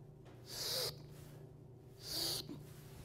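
Two sharp nasal in-breaths, close and fairly loud, about a second and a half apart, each a short hissing inhalation taken while pushing up during a cranial correction, over a quiet low hum.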